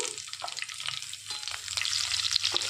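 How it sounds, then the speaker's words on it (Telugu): Dried red chilies and finely chopped onions fry in a pan for raw banana masala curry, a soft steady sizzle with light stirring scrapes and crackles. "ఒక రెండు ఎండుమిర్చులు సన్నగా తరిగి పెట్టుకున్న ఉల్లిపాయలు వేసుకొని వేయించుకోవాలండి"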